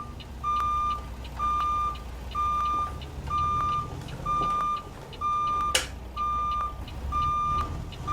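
Reversing beeps from a Peterbilt 379/389 style truck backing up in American Truck Simulator with a 5+3 Spicer twin-stick transmission, a steady train of evenly spaced beeps over a low engine rumble, one brief sharp click midway.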